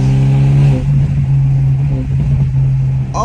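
A BMW F30 with a stage 2+ tune and straight pipe exhaust, heard from inside while driving, with a loud low engine drone and uneven burbling crackles as the revs rise and fall.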